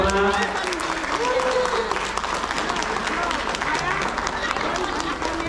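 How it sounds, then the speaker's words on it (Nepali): Guests at a wedding tika ceremony clap in a dense, continuous burst of applause, mixed with crowd chatter and a voice speaking over it throughout. "यहाँहरूले कृपया फेरि पनि ताली बजाइदिनु"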